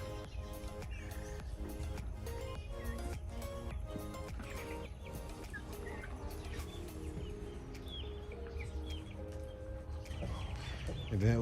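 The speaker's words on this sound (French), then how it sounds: "cette poule Brahma vous dit bonjour ou bonsoir" A Brahma hen clucks softly in short repeated calls amid quiet farmyard ambience, with faint bird chirps around.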